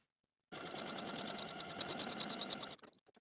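A sewing machine runs steadily for about two seconds stitching buttonholes on a blouse, a close, even mechanical whir with rapid needle pulses, then winds down with a few faint clicks.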